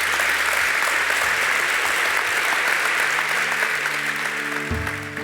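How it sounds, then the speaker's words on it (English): An audience at an NSBA business gathering breaks into applause, a dense wash of clapping that holds strong and tapers slightly near the end, with faint low hum beneath. "I think that deserves an applause"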